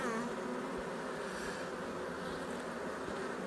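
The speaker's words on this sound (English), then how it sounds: "those bees want to walk on top" Bees crowding a hive frame as young bees hatch out, a continuous close buzzing hum with a steady drone and no talking.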